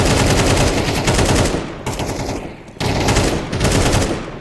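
AK gunfire on the Overpass map in Counter-Strike comes as loud, rapid automatic bursts, a dense run of shots, then a short pause and a second volley.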